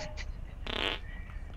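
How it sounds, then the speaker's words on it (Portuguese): A single short, buzzing cartoonish fart in Minecraft, sharp and clear for about a third of a second over low background noise, with brief vocal sounds just before it. "O cara deu TP de tanto que peidou."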